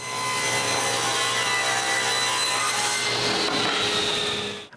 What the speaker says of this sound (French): Le dernier côté, il est tout simplement coupé avec le banc de scie.